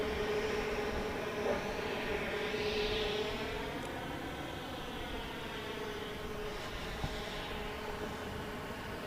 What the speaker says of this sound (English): Learjet 45 coming in from Las Vegas is on the short final here on the east side of the airport